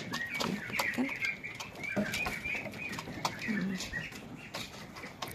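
A rooster on a duck and catfish farm is fed, with soft clucks and scattered bird calls over quiet outdoor background and some rustling.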